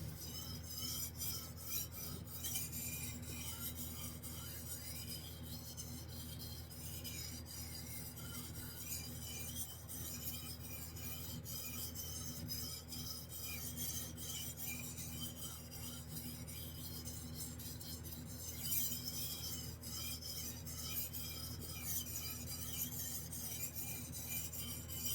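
A Japanese chef knife is drawn across a whetstone with light pressure, giving a soft, steady rasping scrape that repeats evenly throughout, fairly quiet and close, with no voices.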